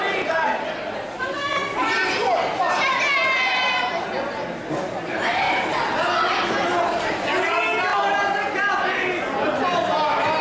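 A pro wrestling crowd jeers and shouts at a wrestler playing a police officer, a dense, continuous roar of overlapping voices filling the arena throughout.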